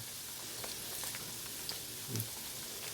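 Pork skin crackling as it deep-fries for crispy pork belly, a steady hot-oil sizzle scattered with small popping bursts and one louder crackle near the end.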